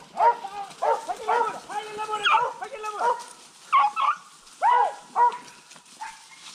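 A hunting dog barks repeatedly during a rabbit hunt outdoors, giving a series of sharp yips and whining barks in uneven bursts at moderate distance, with short pauses between volleys.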